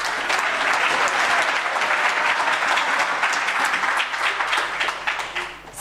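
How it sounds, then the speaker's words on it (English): Festival crowd at the UNISA Innovation Festival gives a loud, steady round of applause, many hands clapping densely together and tapering slightly at the end. "All right, ladies and gentlemen, another round of applause."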